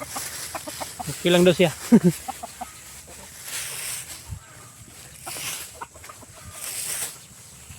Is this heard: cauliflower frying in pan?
no